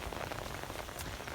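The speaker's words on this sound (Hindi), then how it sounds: "बारिश हो रही है हमारे गांव में, इंतहाई प्यारी बारिश है।" Steady monsoon rain falls in a village, a dense, even hiss of drops on surfaces with no voices, brief and continuous.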